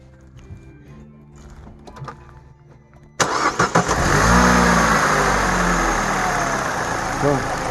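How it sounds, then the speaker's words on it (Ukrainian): A Peugeot 308SW with a 1.6-litre petrol engine and a fourth-cylinder misfire fault cranks briefly and catches, then settles into a steady, loud close-up idle, with people talking beforehand and quiet clicks over the start. "Заводиться з півпічка, працює рівненько, тихенько."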